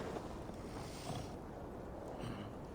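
Steady wind gusts sweep through a stormy outdoor scene in the game Assassin's Creed Valhalla, a constant broad rushing hiss with swelling gusts and no voices.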